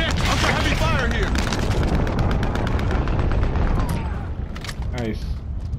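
Call of Duty Warzone combat during a Godzilla versus Kong event: dense, continuous automatic gunfire and booming explosions, with game voice lines and talk over the din, easing slightly toward the end.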